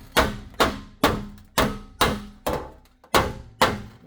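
A hammer strikes metal lean-to flashing on a jig, eight sharp, evenly spaced blows about half a second apart, each ringing briefly before the next.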